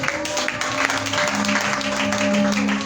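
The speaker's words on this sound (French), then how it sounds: "On va acclamer le Seigneur" A church congregation applauds and cheers to acclaim the Lord, a loud continuous wash of clapping under a sustained musical drone, with voices mixed into the crowd noise throughout.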